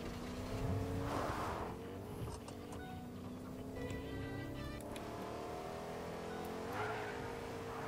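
A car drives in the Fortnite video game, its engine droning steadily with rising revs and a couple of whooshing bursts. There is no talk.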